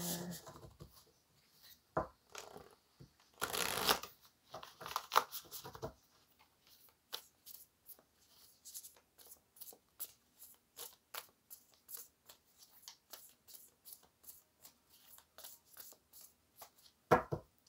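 A run of quick, light papery clicks and flutters of tarot cards shuffling, with a louder burst of riffling early on; close and fairly quiet, no talking.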